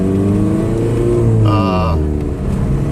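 A VW TDI diesel car with a mechanical boost actuator in regular driving, its engine droning steadily and loudly with a shifting low hum and brief rising tones, heard from inside the cabin.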